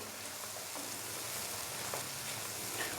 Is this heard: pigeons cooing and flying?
no